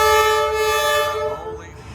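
A train passing through a narrow street in Hanoi, Vietnam, close by: a loud, sustained horn blast with rich harmonics that bends and fades away as it moves past, over rumbling rail noise.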